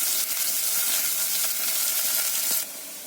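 Onions and green chillies sauté in a pan, giving a steady, close hiss and crackle of frying that drops to a quieter sizzle near the end.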